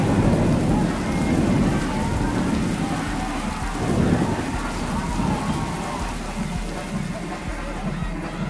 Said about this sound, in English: Now let's just listen to some rain sounds together. And And now some thunder.